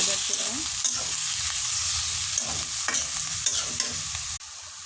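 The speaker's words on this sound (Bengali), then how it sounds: "এখন আমি করলাগুলো ঢেলে দেব।" Sliced bitter gourd goes into a hot pan and is stirred: a loud, continuous sizzle with repeated scraping spatula strokes, cutting off abruptly near the end, no talking.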